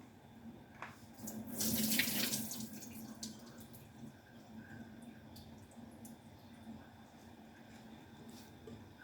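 Liquid from a can of jack mackerel poured off into a sink, a short splashing pour early on that fades into faint trickling and dripping against a steady low hum.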